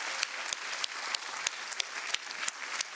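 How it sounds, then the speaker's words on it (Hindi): Studio audience applause on a Hindi kids' TV singing show, a fairly quiet, steady patter of many hands with a few sharp, louder claps standing out close by, and no talk. "तो पहली बात तो उसके लिए बहुत बड़ी तालियां हो जाए।"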